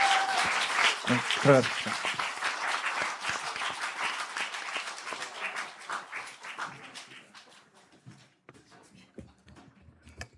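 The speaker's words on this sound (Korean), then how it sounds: "박수 부탁드리겠습니다" A church congregation at a Wednesday prayer meeting and discipleship training graduation breaks into brisk, lively applause that gradually thins and fades out. A voice speaks over the clapping and continues as it dies away.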